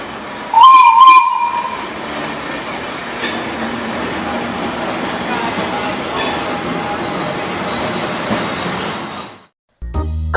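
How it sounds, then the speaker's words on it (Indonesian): A first-generation Dutch-built electric commuter train sounds a steam-locomotive-style gong whistle, one brief loud blast, followed by the steady rumble of rail cars rolling along the track. "KRL ini mempunyai klakson yang berupa gong whistle layaknya lokomotif uap"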